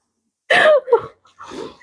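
A woman coughs and clears her throat during a live indoor broadcast, two or three harsh bursts close to the microphone, the first loudest, followed by a rougher, breathier throat clearing after a short pause.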